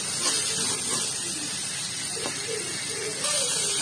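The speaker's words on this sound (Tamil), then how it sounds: "இது ரெண்டுத்தையும் நல்லா வதக்கிட்டு அப்புறம் கருவேப்பிலையும் போட்டு நல்லா வதக்கிடுறோம்" Onion, green chillies and curry leaves sautéing in a pan for a butter beans varuval, a steady broadband hiss and sizzle running throughout, with faint scraping touches, fairly close and alone.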